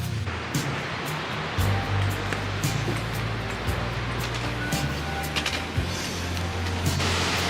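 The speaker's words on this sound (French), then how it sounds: "Guettez-moi cette cascade." A waterfall in the Pyrenees near Lac d'Estaing roars as a steady broadband rush throughout, with a low engine hum running underneath.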